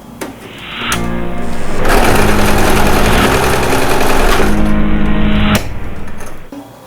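A sewing machine stitching a zigzag seam while sewing bloomers runs loud and steady, with a brief start, a few seconds of continuous mechanical whirring and a stop, with no voices.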